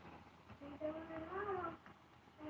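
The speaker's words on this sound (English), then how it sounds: "Leave the cat alone." A cat meows several times at moderate volume, drawn-out and wavering calls with a short one returning at the end, while people talk quietly in the background.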